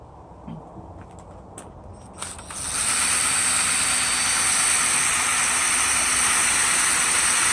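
A key cutting machine grinds a replacement key for a 1988 Honda Prelude, switching on after a couple of seconds of light clicks into a loud, steady high-pitched whine and rush that holds to the end.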